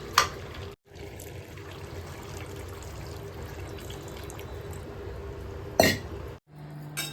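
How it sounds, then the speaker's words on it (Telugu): Steady water pouring and trickling into a pot of chicken curry, continuous for several seconds with a couple of brief clinks and pauses. "ఇప్పుడు నీళ్ళు పోసుకోవాలి"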